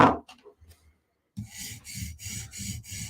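A Chris Reeve Umnumzaan knife blade is drawn across a sharpening stone while working the top of the bevel, making a steady series of close, gritty rasping strokes in a regular back-and-forth rhythm after a short quiet pause.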